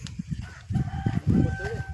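Native country chickens on a farm, with close clucking and a rooster crowing in short bursts that rise and fall over a couple of seconds, mixed with soft farmyard noise.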